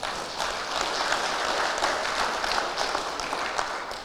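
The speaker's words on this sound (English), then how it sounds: "We'll give him a clap anyway." Scattered clapping from a small audience at a general meeting after a name is drawn, a fairly thin but steady patter lasting several seconds with no voices.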